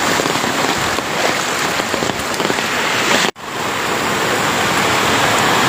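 Heavy monsoon rain in North Bengal pours onto a road with runoff streaming along it, a loud, dense, continuous hiss broken by one brief dropout partway through before resuming at full strength.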